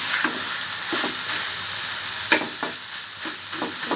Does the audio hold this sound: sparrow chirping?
no